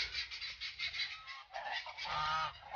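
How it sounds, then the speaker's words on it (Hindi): Loud, repeated honking bird calls from a Chinese hen close by, harsh and nasal, coming in quick bursts over about three seconds. "पीछे जो आवाज़ आ रहा है वो चीनी मुर्गी का आवाज़ है।"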